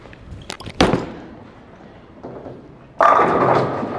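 Bowling ball sent down the lane at Red Rock Lanes, a Radical Max Bias Deep Dive: a few early thuds, a quiet roll, then a loud burst of pin crash that rattles on to the end.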